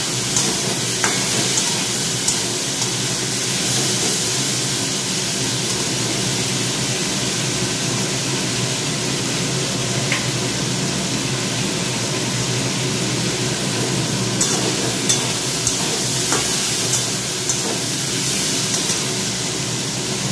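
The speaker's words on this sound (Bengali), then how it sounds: "এটা একটুখানি ভাজা হোক" Vegetables fry in a pan with a steady, continuous sizzle and occasional soft stirring scrapes, close and alone without talk.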